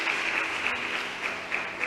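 Congregation applauding in a church, a steady wash of dense clapping that holds evenly throughout, close and moderately loud with no talk over it.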